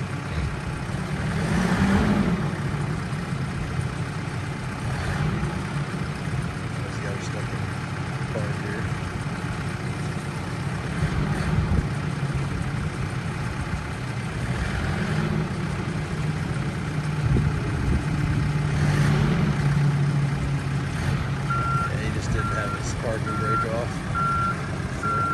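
A 2014 Case 580SN backhoe engine runs steadily nearby, with reversing beeps sounding repeatedly through the clip.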